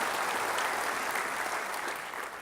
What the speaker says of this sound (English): let's give everyone involved with the New North Village project a big round of applause for this fantastic project